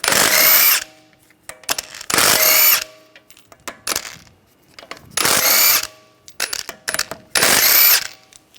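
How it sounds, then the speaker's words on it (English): An impact gun with a 17 mm socket spins out wheel lug bolts on a 2009-2013 BMW 328i xDrive in loud close bursts of whirring, with ratcheting clicks and small metallic clinks between them. "take the lug bolts out"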